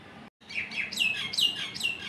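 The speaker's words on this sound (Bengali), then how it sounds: "পাখিদের এই আওয়াজগুলো শুনতে আমার ভীষণ ভালো লাগে।" After a brief silence, birds in a leafy park burst into quick, bright repeated chirps and tweets that overlap, close and clear, with no voices.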